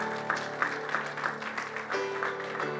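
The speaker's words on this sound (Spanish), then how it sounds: "Denle ese aplauso fuerte al Señor" Church congregation clapping in rhythmic beats during a Christian service, steady claps pulsing over sustained background tones like an organ or keyboard.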